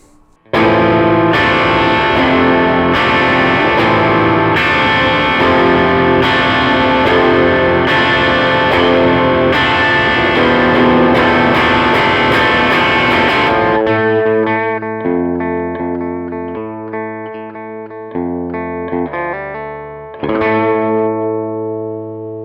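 A loud electric guitar through an overdrive pedal plays driving chords, then switches to a cleaner, quieter passage of single notes with tapped coils that ring out.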